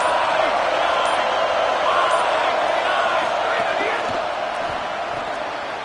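A dense, constant roar from a large football stadium crowd fills the space, loud and unbroken, with a commentator's voice faintly mixed in.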